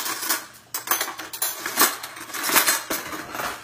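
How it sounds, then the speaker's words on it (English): A spoon stirs melted beeswax hand salve with essential oils in a pot, producing close, irregular metallic clinks and scrapes against the pot. "So I'll stir it a little bit."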